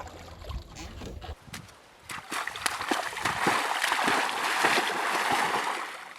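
Canoe paddle stroke pushing water out from the hull, close-up sloshing and splashing of water that builds into a sustained churn after a brief lull.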